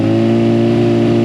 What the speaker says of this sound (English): That Brock's Performance titanium full exhaust sounds so good.